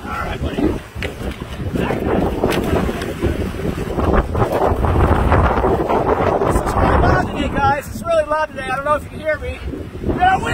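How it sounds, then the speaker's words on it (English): Strong wind from an incoming windstorm buffets the microphone at a pond, a loud continuous rushing roar with gusts, while a person talks over it near the end. "We got a windstorm coming in!"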